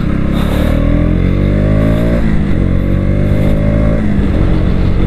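KTM Duke 200 BS6 2021 motorcycle engine revving loudly and close, rising in pitch twice with steady harmonic tones before each drop, heard alone without voices.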